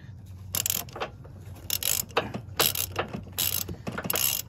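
A ratchet working on an engine mount bolt of a 2008-2012 Ford Escape 3.0L V6, several close bursts of rapid clicking pawl strokes separated by short pauses.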